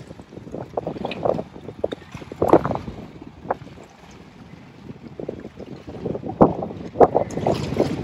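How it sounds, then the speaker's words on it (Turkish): Old Kadıköy passenger ferry crossing the sea in Istanbul, with a low engine rumble and water wash rising and falling, buffeted by gusts of wind on the microphone and no speech. "Kadıköy vapuru bu şekilde bayağı eski ama güzel"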